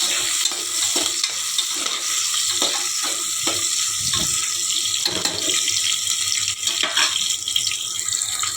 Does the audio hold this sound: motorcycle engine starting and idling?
no